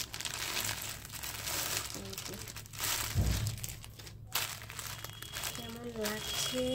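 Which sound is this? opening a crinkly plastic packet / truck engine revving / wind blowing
opening a crinkly plastic packet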